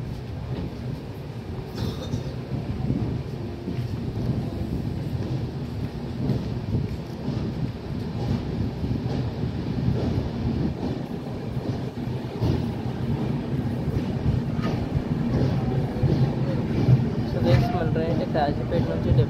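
Godavari SF Express leaving Kazipet rumbles steadily with low, continuous wheel and carriage noise throughout, heard from on board, with voices talking over it.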